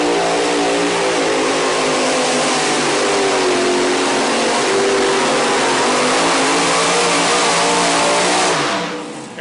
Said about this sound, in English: Everybody's heads are turning when you hear those 4 engines come to life.